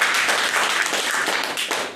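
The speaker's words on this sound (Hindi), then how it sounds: "इस पर जोरदार ताली होना चाहिए अगर आप बदलाव चाहते हैं।" Crowd of farmers at an outdoor rural meeting clapping loudly together, a dense sustained burst of applause that tapers off at the end.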